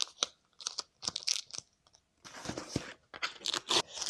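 Packing tape torn off a book parcel during an unboxing, heard as close, quiet crackling rips and crinkles in irregular bursts, with no voices over it.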